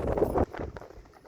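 A horse's hooves clip-clop on village ground. A few heavy, close hoofbeats are followed by lighter, quieter steps as the animal moves off.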